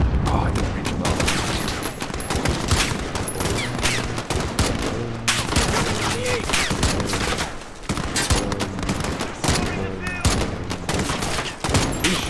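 Call of Duty: Modern Warfare gunfire, dense rapid bursts of automatic shooting going almost nonstop, loud and close, with voices mixed in.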